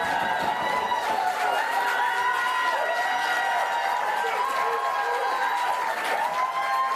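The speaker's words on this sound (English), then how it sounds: "raucous cheering there by the relieved Labour supporters, Marsha de Cordova" Raucous cheering from relieved Labour supporters at a 2019 general election count: a dense crowd roar with whoops, shouts and clapping, steady and loud throughout the few seconds.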